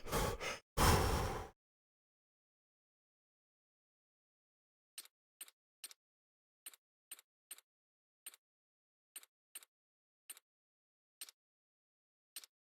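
A sharp double breath in Half-Life: Alyx VR, a sigh-like inhale and exhale close up, followed after a pause by a steady run of about a dozen faint, evenly spaced soft clicks.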